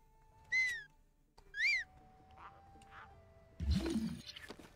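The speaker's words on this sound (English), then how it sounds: "Stop whistling." Two short rising whistled notes, a little over a second apart, rise above game background sounds and distant chatter while playing Breath of the Wild on Switch. A louder clatter follows.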